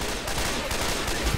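Rapid gunfire in Left 4 Dead 2 as players shoot at zombies on the Dark Carnival map, with dense, continuous bursts of shots filling the brief moment.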